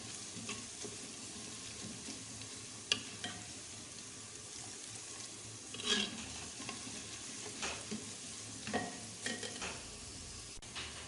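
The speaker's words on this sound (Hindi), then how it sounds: "अभी हमारे प्याज भी तकरीबन लाल हो गए हैं, थोड़े से रह गए हैं" Onions sizzling steadily in a pan while meat curry is cooked, with a constant frying hiss and occasional spoon scrapes and taps as they are stirred, close and without talk.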